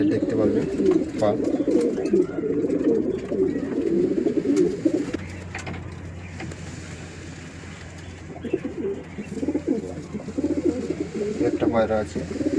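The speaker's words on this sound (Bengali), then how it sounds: "এটা 2023-এ রেজাল্ট করা পায়রা।" Pigeons at a pigeon sale in Mallickpara, Ankurhati, coo in a low, steady, overlapping chorus close by, with a continuous hum running under the second half and people talking intermittently throughout.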